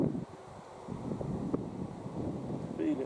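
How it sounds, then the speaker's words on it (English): Gusty wind buffets the microphone at an outdoor air rifle range, a steady low rumble that swells and eases across the few seconds with no clear talk over it. "the wind's dropping in and out now, and turning around"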